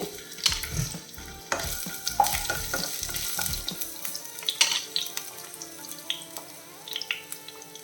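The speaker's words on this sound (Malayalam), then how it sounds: "അപ്പോൾ എണ്ണ ചൂടായിട്ടുണ്ട് ഞാൻ ഒരു ചെറിയ കഷ്ണം ഒരു അര ഇഞ്ച് നീളത്തിലുള്ള ഇഞ്ചി എടുത്തിട്ട് ഇതുപോലെ കട്ട് ചെയ്തിട്ട് കൊടുക്കുകയാണ്" A small piece of ginger drops into hot coconut oil for a chutney, crackling and sizzling with scraping stirs, brisk bursts at first settling into a quieter, intermittent fry with faint clinks.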